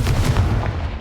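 Hogwarts Legacy Confringo and Bombarda spells detonate in a short, loud burst of booming, gunfire-like blasts that run together into a dense low rumble.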